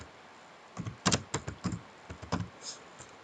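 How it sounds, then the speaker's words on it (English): Typing on a computer keyboard while entering data into a Microsoft Excel spreadsheet, a short burst of about ten quiet, close keystrokes in an irregular rhythm, with no talking. "on the adjacent cell you type there total cost."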